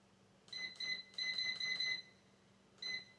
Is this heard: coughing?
no